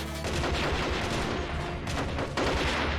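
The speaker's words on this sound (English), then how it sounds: "Oh, artillery!" Artillery fire in the Army Men of War video game, a dense run of loud booming blasts and crackling impacts that repeat through the short stretch, with no talk over it.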